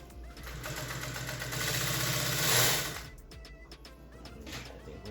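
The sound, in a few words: Juki industrial sewing machine sewing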